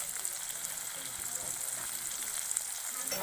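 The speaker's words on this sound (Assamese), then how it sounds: "তেলত ভালদৰে ভাজি লৈছোঁ" Small prawns frying in hot oil, a steady broadband sizzle with faint stirring scrapes throughout, moderately close and continuous.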